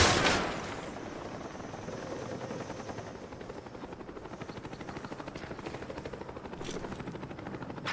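In a team deathmatch video game, a spy plane drones overhead with a rhythmic, pulsing engine throb that holds steady and moderately loud after a sharp opening burst, with no voices.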